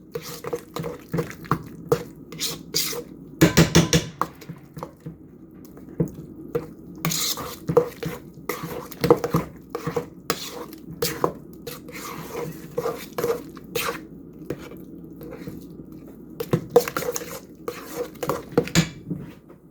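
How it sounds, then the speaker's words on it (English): Eggs being whisked by hand in a bowl for a sweet potato pie filling, with uneven clinks and taps of a utensil against the bowl and soft wet stirring throughout. "break my yolks and incorporate my eggs"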